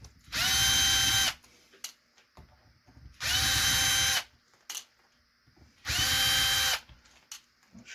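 A power drill backs chassis screws out of an IFR test instrument in three close, loud, evenly spaced bursts of about a second each, with quiet handling clicks between them.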